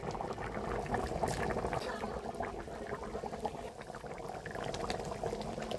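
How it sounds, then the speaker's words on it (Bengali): Chicken stomach and leg-piece curry boils in a pot on an old earthen stove, giving a dense, steady bubbling and simmering that runs unbroken and fairly close throughout. "কত সুন্দর টকবক টকবক করে ফুটছে দেখো"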